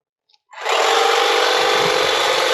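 A power trimmer cutting American boxwoods in fall switches on after a moment of silence, then holds a loud, close, continuous buzzing whine with no talking.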